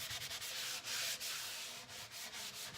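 Salve being rubbed by hand over a burled wood veneer overlay, a steady close-up friction hiss with soft rhythmic strokes, no talk.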